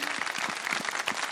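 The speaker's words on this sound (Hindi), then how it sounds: "तो अगर हम भाई के लिए तालियां बजाएं बहुत सारी" A studio audience applauds a young boy on a children's segment of an iftar television show. The clapping is soft, continuous and fairly distant, with no voices over it.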